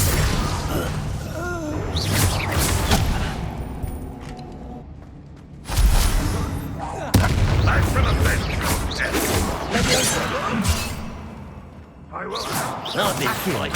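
The Confringo blasting spell is cast in the video game Hogwarts Legacy, with several sharp whooshing bursts and booming impacts amid dense, continuous battle sounds and voices talking.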